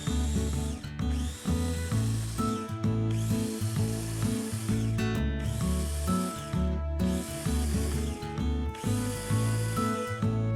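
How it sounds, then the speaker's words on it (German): A blender purees strawberries in loud, close bursts, its motor whining steadily with brief dips between pulses, no voices present. "Einmal durchpürieren."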